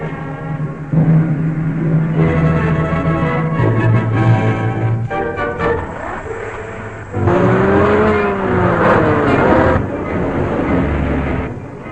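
In an old serial's car chase, a car drives off at speed with revving engine tones that surge and glide in pitch, loud and close, mixed with other noise from the scene.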